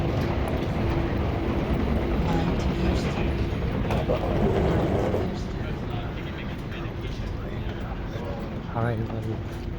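Rumbling rail noise of a train moving along the tracks at Singapore's Changi Airport, steady and loud with clanking mechanical rattles, easing off partway through.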